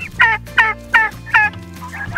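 A turkey gobbling in a run of about five quick, close, loud bursts with short gaps between them, heard alone.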